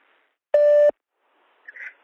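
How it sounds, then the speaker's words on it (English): An answering machine gives a single electronic beep, a pure steady tone lasting under half a second, followed by a faint brief rustle. "All right, here comes that beep."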